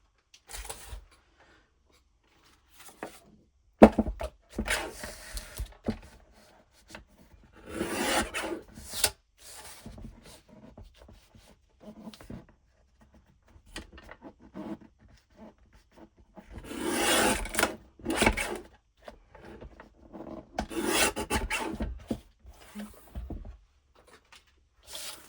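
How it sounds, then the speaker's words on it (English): A guillotine paper cutter trims paper for a junk journal. Intermittent soft scraping and rasping strokes come in short bursts with quiet gaps between them, close and fairly faint. "getting my guillotine cutter"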